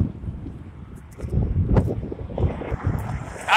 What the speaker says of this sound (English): As soon as I get in Odessa, 45 mile an hour wind gust, wouldn't you believe it?